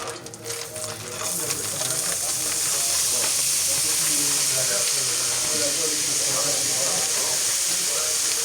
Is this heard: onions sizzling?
yes